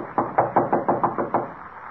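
Knocking on a door in an old radio drama: seven firm, evenly spaced knocks in a quick sequence, close and clear, alone without voices.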